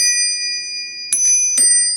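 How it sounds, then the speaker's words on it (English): An old telephone's bell rings in two short bright metallic bursts, loud and close, with a steady high tone hanging in the background between strikes. "The bell, shown here, got a nice ring to it."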